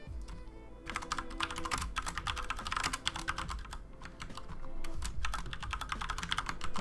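Typing on a computer keyboard: quick, close clusters of key clicks in rapid bursts with short pauses between them, alone without voices.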